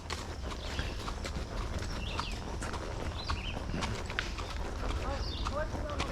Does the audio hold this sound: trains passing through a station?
no